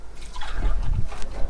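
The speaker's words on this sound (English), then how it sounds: "So we're going to add a little bit of water." A little water poured into a pan of seasoned potatoes and carrots for a pea stew: a short, close splash and trickle with a low sloshing swell lasting just over a second, no talk.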